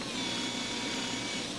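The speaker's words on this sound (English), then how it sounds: "I'm gonna switch into using my lug stud ring, which is an attachment for my drill to get all that corrosion" A power drill spinning a lug stud ring attachment scrubs corrosion from the wheel studs and hub surface on a 2008-2013 Toyota Highlander during a front brake job, a steady close whirring grind with no talk.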